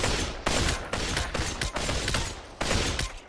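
Gunfire from a weapon in the Population One VR game, a rapid string of loud, close shots in uneven bursts with brief gaps between volleys.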